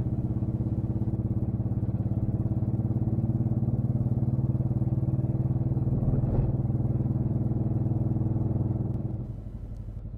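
A Saturn car running on a single 475cc cylinder after its other cylinders were deactivated gives a loud, steady, buzzing engine drone that holds for about nine seconds, then drops off in level near the end.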